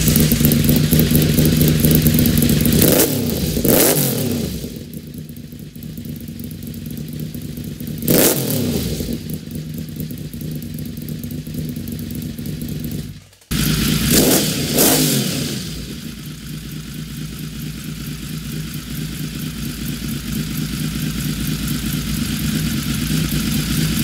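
A Honda VFR750 motorcycle engine runs close by, idling steadily between several sharp throttle blips that rise and fall, and it briefly cuts out before catching again and settling back to a smooth idle.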